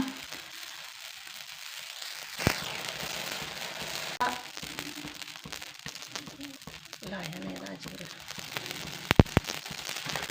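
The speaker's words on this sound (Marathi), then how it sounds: "राजगिरीच्या लाह्या किती छान उडायला लागलेल्या आहेत तुम्ही पाहू शकता" Homegrown amaranth seeds roasting in a pan, popping with frequent soft crackles and scattered sharp pops, including louder bursts, under steady kitchen noise with voices in the background.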